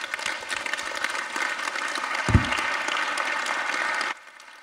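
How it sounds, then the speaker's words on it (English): Audience applause at a panel conversation at YBCA, steady dense clapping from a crowd in a hall lasting about four seconds before stopping abruptly. "a round of applause, please"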